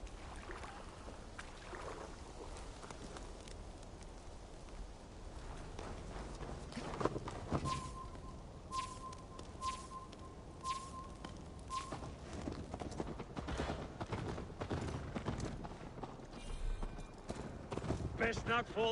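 Horse hooves clip-clopping at a gallop in Assassin's Creed Valhalla, a rapid rhythmic pounding that goes on throughout, mixed under character dialogue and other game sounds.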